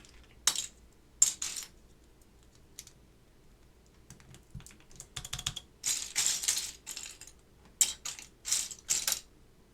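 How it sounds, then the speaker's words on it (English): Clacky keystrokes on a Keycult No.2/65 mechanical keyboard with Alps SKCL Green and SKCM Orange switches and DCS keycaps, sparse at first, then quicker clusters of presses and a few heavier stabilized key hits, close up with no talking. "I just want to test our stabilized keycaps."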